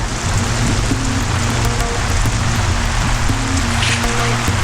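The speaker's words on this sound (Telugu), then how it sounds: "వర్షం బాగా పడుతోందే" Heavy rain pours steadily and loudly, a dense unbroken roar of drops hitting surfaces with no voices heard.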